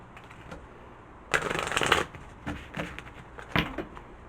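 Tarot cards being shuffled by hand, a soft burst of riffling followed by a few lighter flicks and taps, close and fairly quiet with no talk.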